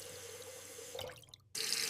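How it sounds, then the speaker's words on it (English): A bathroom tap running in a short burst, a steady hiss with a dripping patter, a brief quiet gap, then the flow returning louder and brighter. "I turn on the water."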